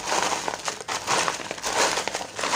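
Paper chits are crinkled and shuffled by hand for a card reading, close rustling bursts in an irregular rhythm, soft and continuous with no voice.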